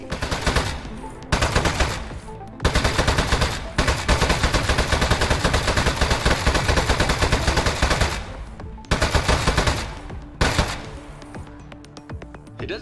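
Rapid automatic gunfire from shooting in the video game Aperture Desk Job, loud sustained bursts broken by short pauses over about thirteen seconds, with no talking.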